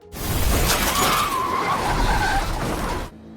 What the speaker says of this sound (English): suddenly a car hits them from behind